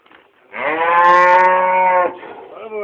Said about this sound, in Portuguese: Toca o boi, Felipe.